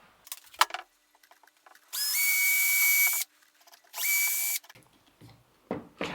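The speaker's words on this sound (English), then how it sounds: "So I'm gonna drill a couple of holes into the fretboard, through into the neck" Power drill boring holes through a guitar fretboard into the neck of a semi-hollow Flying V during a build, two sustained whining bursts of about a second each, close and loud, with brief clatter of handling between them.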